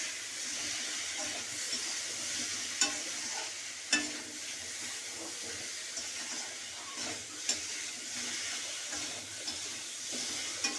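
Ginger paste fries in a pan with a steady close sizzle and hiss while a utensil stirs it, a few sharp scrapes and taps breaking through, and no one talks.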